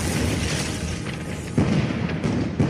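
Artillery fire in a snowy forest in Germany, with tree bursts and mortars: a continuous rumbling barrage of booms, with heavier close impacts landing near the middle and end.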